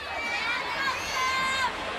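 A crowd murmurs and cheers in a large arena during a college gymnastics competition, with a few high voices rising over the broad hum.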